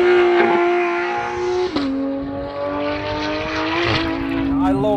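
A Porsche 911 GT3's naturally aspirated 4-litre flat-six sings loudly from inside the car, its high pitched wail holding steady, dipping briefly at a gearshift, then climbing again as revs rise, with a voice speaking over it.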